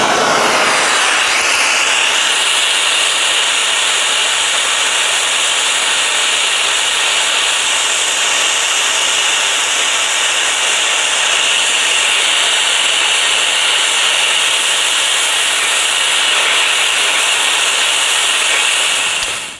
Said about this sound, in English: Okay, well, it's brazed up, but the brazing job is not quite as good as it is with the map gas and the oxy.